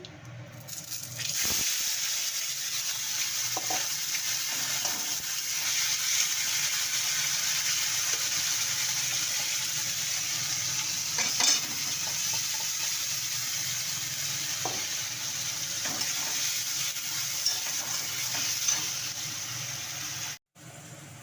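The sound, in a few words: spice paste added to a pan and fried while stirring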